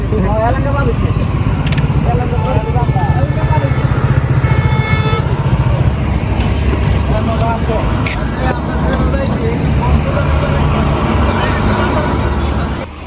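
A motorcycle riding on the road toward Sirajganj, Bangladesh, with loud wind and engine rumble, horns tooting in surrounding traffic, and a voice talking over it.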